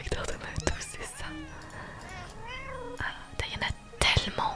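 Playful cartoon cat mews from the Hidden Cosmo Cats game, a few short wavering meows in sequence under soft whispered commentary and occasional sharp mouse clicks.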